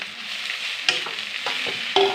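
Boiled potatoes frying in a pan, a steady soft sizzle with a few sharp spatula scrapes and clanks against the metal.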